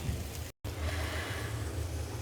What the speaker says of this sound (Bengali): আদা রসুন দিয়ে হালকা করে ভেজে নিচ্ছি